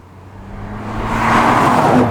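A 2017 Audi RS5 driving in comfort mode gives a steady interior engine drone and road roar that swells gradually as the car accelerates, with no talking.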